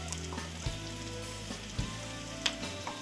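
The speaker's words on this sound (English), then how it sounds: "So just go ahead and continue to saute that." Broccoli and red peppers sautéing in a pan over raised heat, a steady close sizzle broken by a few soft utensil knocks and stirring sounds, no voices.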